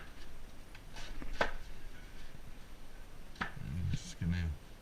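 Knife finely chopping cabbage for a pineapple coleslaw, a few sharp chops on a board spread across the clip, close and moderately loud between quiet stretches, with some low voice-like sound near the end.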